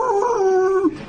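A hound dog lets out a single drawn-out bellowing howl, close and loud, its mournful tone sliding down and breaking off after about a second.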